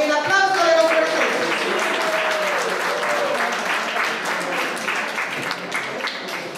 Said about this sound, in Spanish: con el aplauso de los presentes